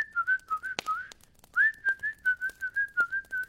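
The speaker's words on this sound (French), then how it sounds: "le géant remua l'assiette de carottes en sifflotant" A cartoon giant whistles a cheerful tune while stirring a plate of carrots, in a bright series of short, rhythmic, lilting notes broken by a brief pause and a few soft clinks.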